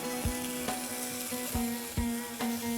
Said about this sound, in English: While the cottage cheese is getting pan fried